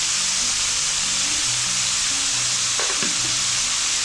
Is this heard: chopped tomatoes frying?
yes